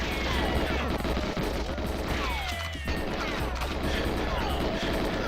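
Gunshots slam into a wall in a video game amid dense, loud crashing impacts and bursts of fire, with a few ricochet-like whines, continuous and close.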